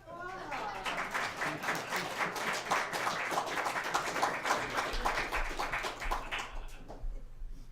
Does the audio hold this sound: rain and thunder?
no